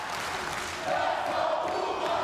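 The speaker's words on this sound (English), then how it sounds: "Listen to the crowd, listen." A wrestling crowd of believers packed into a temple arena roars in a dense, continuous wash of cheering and shouting that swells louder midway, with no single voice standing clear.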